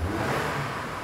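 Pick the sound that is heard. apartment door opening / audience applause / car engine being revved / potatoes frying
car engine being revved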